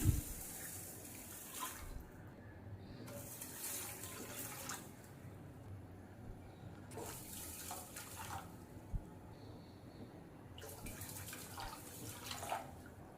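Steady rush of running water pouring into a pot, continuous and fairly close, with a few small clinks and shifts in the flow.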